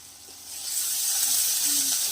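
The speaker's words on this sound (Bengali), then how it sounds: "রসুনটাকে একটু ভেজে নেব" Garlic frying in a pan with oil while a fish curry is being cooked, a steady close sizzling hiss that swells slightly and holds, with no talking.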